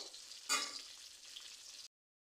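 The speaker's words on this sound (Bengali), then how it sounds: "হলুদ মরিচ লবণ দিয়ে মাছ ভাজা শুরু করে দিয়েছি" Rohu fish fries in hot oil with turmeric, chilli and salt, a short, faint sizzle that swells briefly near the start before cutting off.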